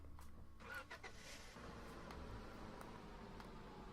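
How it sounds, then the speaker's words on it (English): A truck engine in the Roblox game Lumber Tycoon 2 runs steadily for a few seconds, a low continuous motor drone with brief higher clicks and bumps near the start, with no talking. "Let's get the truck out of the way."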